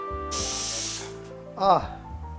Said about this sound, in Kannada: ಈಗ ಇದು 3 ವಿಸಿಲ್ ಹೊಡೆದಿದೆ.